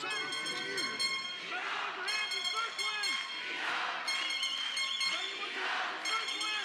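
Spectators at a freestyle wrestling match, Jordan Burroughs of the USA against Iran's Nokhodilarim, chant rhythmically to a repeating horn melody, the brassy tooting phrases and crowd swell rising and falling in regular cycles, moderately distant.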